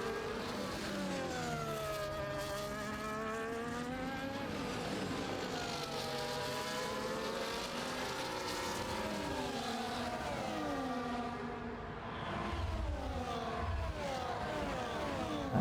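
Race cars in close racing at an Azerbaijan street race, engines droning and shifting pitch continuously as several cars run nose to tail, loud and steady throughout with no other voices.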